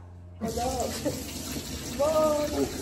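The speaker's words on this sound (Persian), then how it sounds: "مامانم این شیلنگ رو کرد توی این کاهو، آب باز کرد و رفت" Water gushes from a garden hose onto lettuce, a steady splashing flow starting abruptly after brief quiet, with a voice speaking over it.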